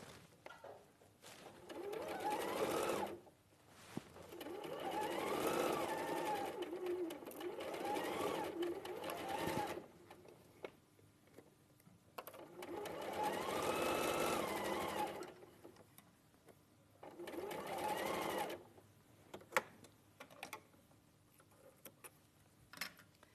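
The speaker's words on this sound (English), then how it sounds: "we're going to sew a 1/4 inch again" Sewing machine running a quarter-inch seam, with several sustained bursts of rapid stitching that rise and fall in speed between pauses, close and clear, and occasional faint chatter in the quiet gaps.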